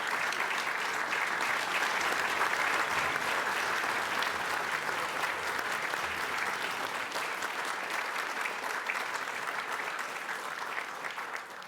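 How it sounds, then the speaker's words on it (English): A large audience at an ethnic business awards ceremony gives sustained, even applause that holds steady and fades slightly at the end, with no voices over it. "Ladies and gentlemen, a round of applause for the very proud Peter Ether."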